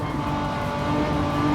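Little Renault GR4 race car in Gran Turismo 7 at Watkins Glen, engine droning loud and steady as it accelerates out of a corner, no talk.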